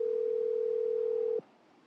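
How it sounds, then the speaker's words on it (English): A steady telephone dial tone hums alone for over a second as a call is placed, then cuts off abruptly, leaving faint room hiss. "He calls Shane."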